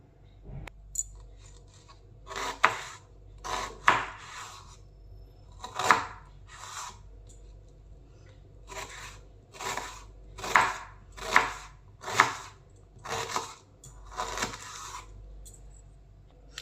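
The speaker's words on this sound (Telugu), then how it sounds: "ఒక మీడియం సైజు ఆన్స్ ఆనియన్ తీసుకొని దీన్ని కూడా చిన్న చిన్న పీసెస్ కాగా కట్ చేసుకుందాము" Medium-sized onion being chopped into small pieces for a bitter gourd fry, a steady run of crisp knife strikes on a cutting board in uneven clusters, close and clear with no talking.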